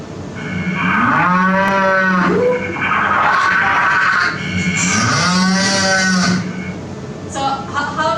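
A cow moos repeatedly in long, low, drawn-out calls with rising and falling pitch, loud and close, with a brief pause between calls and a short sharper sound near the end.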